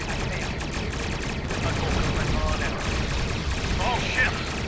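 Starship weapons fire in Star Trek Online crackles as a dense, continuous barrage of rapid bursts with a few zapping tones, loud and close under a voice speaking.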